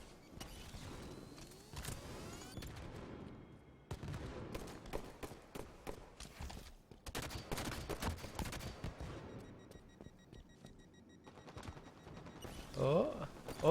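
Video game gunfire from a first-person shooter match: bursts of rapid shots and rattling automatic fire come in clusters with short gaps, fairly loud against the game's background sound, and a voice speaks near the end.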